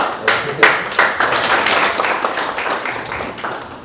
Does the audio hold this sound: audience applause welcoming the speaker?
yes